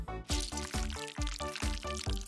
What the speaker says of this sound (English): Pour in the cream.